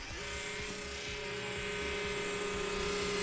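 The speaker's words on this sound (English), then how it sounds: "Brushless TRX4 is powering through." A brushless Traxxas TRX4 Sport RC truck on Traxx tracks powers up a climb, its motor holding a steady, high, close whine over rumbling drivetrain noise.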